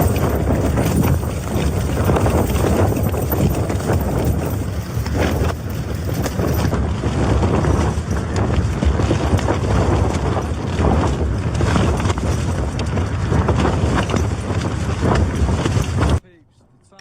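Strong wind gusts batter a camping tent, a continuous loud roaring buffeting that barely eases for the whole stretch before cutting off abruptly near the end.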